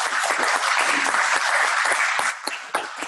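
An audience at an agritourism conference on a farm applauds economic development directors, a dense, steady wash of clapping that tapers off near the end.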